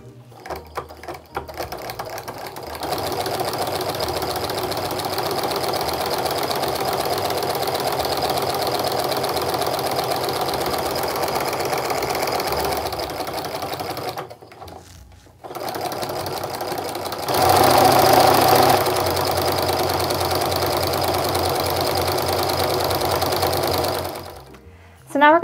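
A sewing machine runs in long continuous bursts of rapid stitching, with a brief pause midway and a slightly louder final run.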